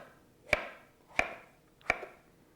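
A knife cutting cleaned, split cantaloupe into pieces on a board: three sharp, evenly spaced chops about two-thirds of a second apart, quiet and close, with no voices.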